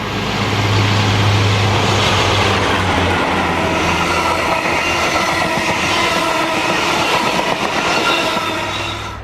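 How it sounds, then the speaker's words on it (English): A heavy diesel freight train rumbles past close by in Britain, a steady loud roar of engine and wagons with a rhythmic clatter of wheels on the rails. "a rails train bound for Wellingborough"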